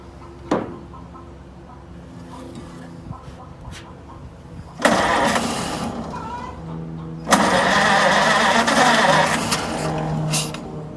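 An early Ford V8 cranks over twice and catches, settling into a loud, steady rattling idle after each start, with light background chatter between attempts.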